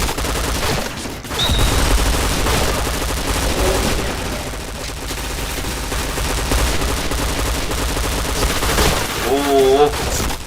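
Rapid bursts of P90 submachine-gun fire in a video game, loud and sustained across the clip, with players talking and shouting over the shooting.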